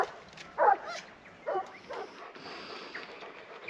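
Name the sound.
dogs barking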